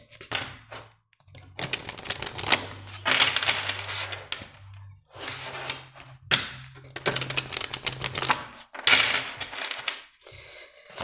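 Ganesh oracle cards being shuffled and drawn, a run of dry papery riffling bursts in several bouts with short pauses between, close and fairly loud.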